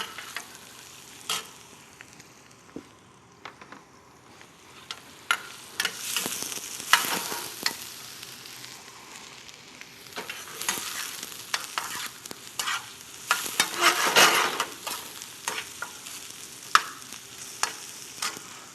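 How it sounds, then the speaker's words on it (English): Onions sweat in a hot pan while a spoon stirs them, so irregular scrapes and clinks sit over a constant sizzle in a cruise ship kitchen, with no talking. "So while the onions are sweating,"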